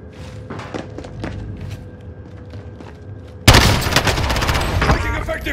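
Video game gunfire starts with a few scattered distant shots and thuds under quiet talk, then erupts into a loud, dense burst of rapid firing and booms that keeps rattling to the end.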